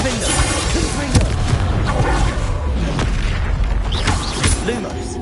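Explosive spells crackle and boom in Hogwarts Legacy combat, a dense, loud run of blasts and impacts layered with game noise and a voice speaking over it.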